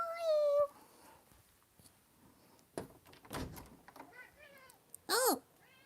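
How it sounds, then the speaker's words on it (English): A house cat meows several times indoors, a clear cry at the start, softer mews in the middle and a loud, sharp meow near the end, with quiet thuds and rustling in between. "My cat's crying."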